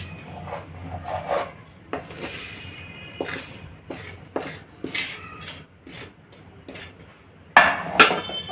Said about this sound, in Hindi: इसे अच्छे से मिलाना है।